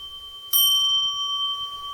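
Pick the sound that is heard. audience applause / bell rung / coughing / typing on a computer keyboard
bell rung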